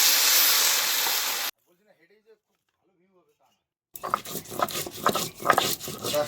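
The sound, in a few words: water poured into frying taro curry, sizzling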